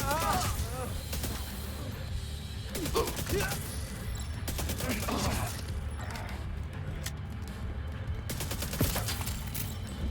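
Rapid gunfire rattles in repeated bursts through a firefight in The Division 2, mixed with clicks and mechanical clatter, while voices speak over the shooting.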